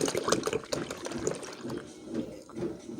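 Cow blood poured into a vessel while preparing Yakut blood sausage, a continuous liquid pour with splashing and gurgling at close range, steady throughout.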